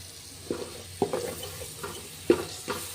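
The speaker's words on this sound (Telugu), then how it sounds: "పెరుగు వేసాక బాగా కలుపుకోండి" Spoon stirring curd into egg biryani masala in a pan, a few separate scrapes and soft clunks spread over a light sizzle, close and fairly quiet.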